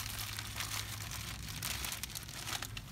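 Eggshells are crushed inside a plastic bag, giving a continuous crinkling, crunching rustle of plastic and brittle shell fragments, close and fairly soft, with no speech.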